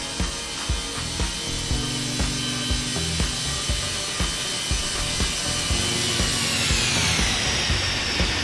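A Toliss A321 airliner in X-Plane 12 lands with its default sound set. A steady, loud engine and airflow roar runs under regular rhythmic clicking thumps, with a high whine gradually falling near the end.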